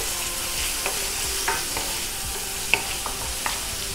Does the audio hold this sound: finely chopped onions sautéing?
yes